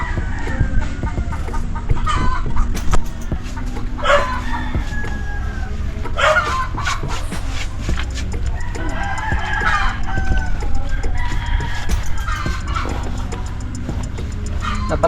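Chickens cluck steadily and repeatedly at close range while a rooster crows now and then, with a low background hum running underneath.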